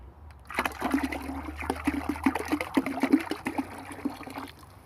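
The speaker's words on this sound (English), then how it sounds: "And we're gonna pour this in." Vinegar poured into a container for cleaning a terra cotta pot, a soft splashing trickle with small irregular bursts for several seconds, fairly quiet and close.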